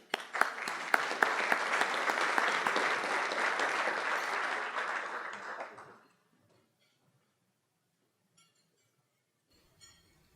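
A conference audience applauds to welcome a speaker, a sustained burst of dense clapping for about six seconds that stops abruptly, leaving near silence with a few faint clinks.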